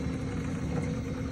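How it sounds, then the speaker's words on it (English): Ball lift motor inside a Matador pinball machine runs steadily up close, a continuous low mechanical hum and drone with no breaks and no talking. "One of the sounds is the motor actually running."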